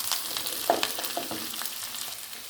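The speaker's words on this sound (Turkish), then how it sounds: "Börümcelerin rengi dönene kadar bu şekilde kavuralım." Black-eyed peas sautéing in a pan with onion and garlic, a steady close sizzle with a few soft stirring clicks and scrapes, no talk.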